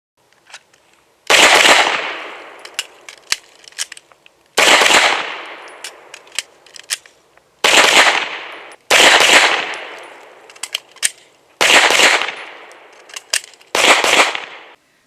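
Pistol fire during a shooting and emergency reloading training drill, six loud clusters of quick sharp shots separated by short pauses filled with small metallic clicks and handling noises.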